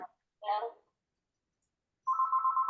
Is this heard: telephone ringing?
yes